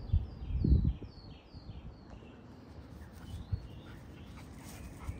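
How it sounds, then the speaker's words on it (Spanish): A small female dog makes soft whimpering and snuffling sounds in a grassy backyard, with a few close thumps at the start and birds chirping faintly in the background. "Aquí anda mi perrita."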